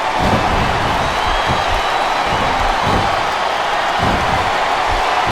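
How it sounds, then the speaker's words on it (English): A large wrestling arena crowd in a video game roars continuously, loud and dense, with occasional thumps rising from the steady wash of cheering. "I love hearing the crowd come alive"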